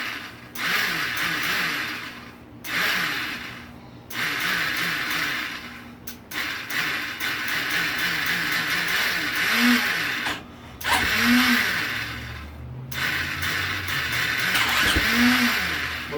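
A KTM 450SXF dirt bike with a failing starter clutch cranks in several repeated bursts, the starter whirring and chattering between short pauses, with brief engine catches that sputter without fully running.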